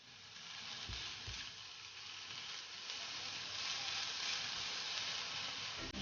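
Homemade barbecue sauce sizzles and bubbles steadily in a frying pan, a continuous close hiss with a couple of faint stirring knocks near the start.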